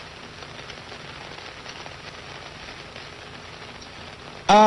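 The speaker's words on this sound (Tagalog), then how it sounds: "Okay, ang lakas ng ulan." Heavy rain during a typhoon falls as a steady, even hiss with faint patter on surfaces, continuous and moderately loud, cut by a brief sharp sound at the very end.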